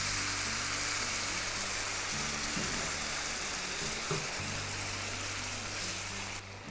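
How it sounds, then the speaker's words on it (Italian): Steady sizzling and bubbling from a hot pan as hot vegetable broth is poured over stuffed peppers, a constant frying hiss that runs throughout with a low hum beneath. "Poi ci verso sopra un po' di brodo vegetale, bollente."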